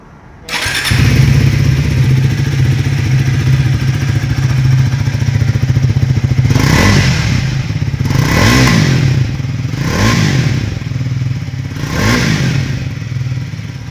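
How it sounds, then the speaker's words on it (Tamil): A 2025 Triumph Speed 400 motorcycle starts up and idles loudly and close, its exhaust note steady, then revs rise and fall in four distinct blips toward the end. "ஸோ இந்த மோட்டர் சைக்கிளோட எக்ஸாஸ்ட் நோட் பார்ப்போங்க."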